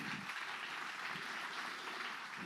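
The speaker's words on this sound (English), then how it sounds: "a round of applause, please." Applause from an audience at a church adult Bible fellowship gathering, a steady dense patter of clapping that holds evenly for a couple of seconds without speech.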